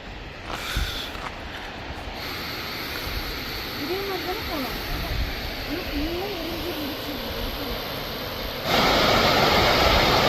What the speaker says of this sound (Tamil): இந்த கரும்பாறையில் வெள்ளை கலரில் பாருங்கள் அருவி கொட்டுறது சூப்பராக இருக்குது